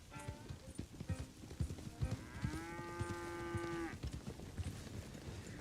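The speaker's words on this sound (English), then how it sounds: "So we got these Florida cracker cows" Florida cracker cattle in Red Dead Redemption 2 give a long, drawn-out moo over a backdrop of clip-clopping hooves and faint farm ambience, the call rising and holding for about a second and a half.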